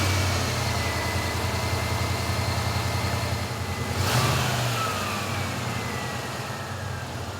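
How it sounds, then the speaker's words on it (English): Ford Bronco truck engine, 1985–1996 era with a BBK throttle body, idling steadily while warming up, a constant low rumble close to the mic with one brief swell partway through. "we have to start the truck and let it reach normal operating temperature"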